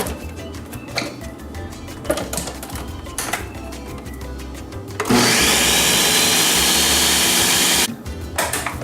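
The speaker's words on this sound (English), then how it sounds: "We're gonna blend those ingredients first until it's all mixed up in a homogeneous mixture." A kitchen blender blending milk and sugar for a Brazilian coconut cake batter roars loudly and steadily for about three seconds, after a run of clicks and clatter as it is set up, with no talking.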